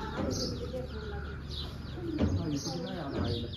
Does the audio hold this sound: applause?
no